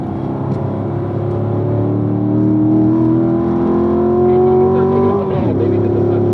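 A car driven hard into a corner on a race track during a driving session, its engine droning loud and close with a slowly rising pitch, then dropping abruptly as the driver shifts near the end.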